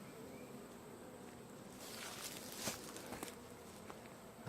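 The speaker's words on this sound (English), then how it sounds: "These are real gentle bees." Gentle honey bees buzz around an open hive during an inspection, a soft, continuous insect hum with occasional nearby fly-bys growing slightly louder midway, plus light rustling.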